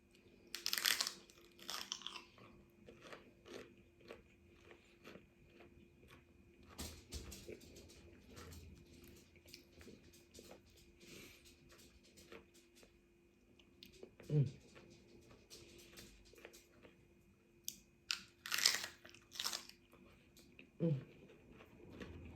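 Crisp crunching bites and chewing of celery sticks dipped in sweet chilli hummus, several loud close crunches spaced out over quiet moments with some speech.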